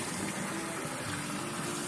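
A whole raw chicken rinsed under a running kitchen tap, a steady, close, continuous gush of water with no talking.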